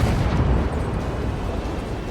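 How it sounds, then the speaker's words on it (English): Heavy M40 artillery explosion in a multiplayer war video game, a loud, dense low rumbling boom that fills the whole stretch and rolls on steadily without a break. "It was the M40, the artillery."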